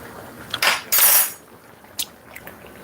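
A spoon rinsed under running water at a kitchen sink, a close hiss of the stream lasting about a second, then a few faint metallic clinks.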